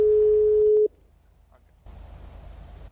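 A steady phone ringback tone sounds for under a second during an unanswered call, then cuts off abruptly, leaving faint background hiss and a low hum.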